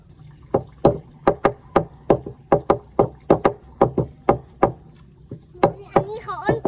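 Sharp wooden knocks on a pond's edge call fish to feed, a close, loud series of about twenty evenly spaced raps, ending with a short voice over the last strikes.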